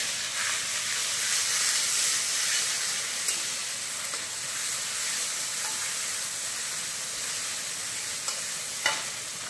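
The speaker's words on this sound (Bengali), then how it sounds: "পেঁয়াজ লাল লাল ভাজা হয়ে গেছে, এবার দিয়ে দিলাম আদা রসুন বাটা, আদা রসুন আর কাঁচা লঙ্কা বাটা।" Ginger, garlic and green chili paste sizzles in hot oil with browned onions, a loud, steady frying hiss with stirring scrapes and a few sharp pops.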